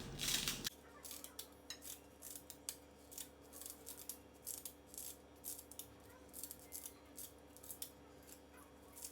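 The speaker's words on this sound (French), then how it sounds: "Je vais terminer de les couper et je vais les mélanger avec mon riz." Scissors snip through sheets of dried nori seaweed for a sushi-style salad, a loud opening cut followed by a long run of quick, crisp, evenly spaced snips close to the microphone, with no talking.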